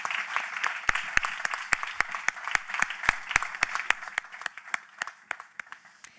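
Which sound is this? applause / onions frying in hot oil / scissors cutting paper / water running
applause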